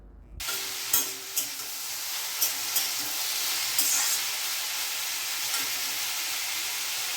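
Freshly cut potatoes are frying in a pan, with a loud, steady sizzle that bursts in abruptly and carries on, broken by a few soft knocks and clicks from stirring.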